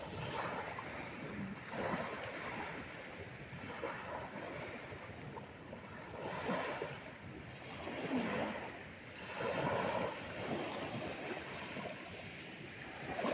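Surf rolling in under strong wind at Alao, a steady broadband wash with swelling peaks every couple of seconds as the waves break, loud and continuous with no talk.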